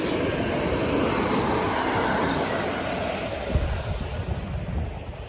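A train rumbles into Warszawa Rembertów station in Poland, a broad continuous roar with wind buffeting the microphone, a single heavier thump partway through, and a gradually easing rumble.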